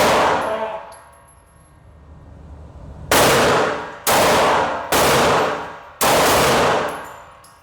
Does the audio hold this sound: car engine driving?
no